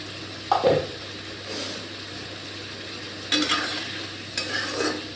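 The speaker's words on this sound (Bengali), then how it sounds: "এবার এই মশলাটা একটু কষাবো" Masala being stirred and fried in a pan for a Bengali fish curry, with a low sizzle under several scraping, clattering bursts of stirring, close and clear, with no voices.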